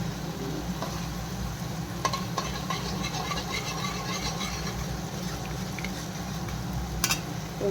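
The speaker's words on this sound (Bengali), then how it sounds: "3টে ডিম এর মধ্যে দিয়ে দেবো, দিয়ে ভাজা করে নিই।" Three eggs frying in a pan with chicken for chowmein, a steady close sizzle with occasional scrapes and taps of a utensil stirring.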